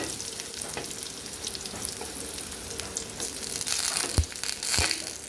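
Dry chillies with chopped garlic and onion fry steadily in a pan, giving a continuous close sizzle with a few sharp crackles and pops near the end, no talking.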